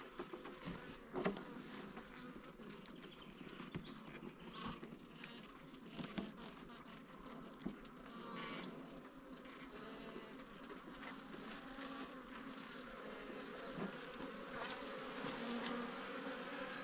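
Honey bees buzz in a faint, continuous hum during a transfer from a Langstroth hive to a top bar hive outdoors, with scattered soft knocks and occasional bird calls, no talk.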